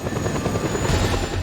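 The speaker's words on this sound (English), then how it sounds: "Ooh, they sent 2 choppers at me." Two helicopters in Just Cause 2 thrum loudly with a steady rotor chop and engine drone, close and continuous without speech.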